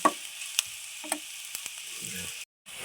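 Spinach is stirred with turmeric and salt in a hot pan, giving a steady sizzle with a few sharp scrapes and taps of the spoon against the pan, close up with no talk.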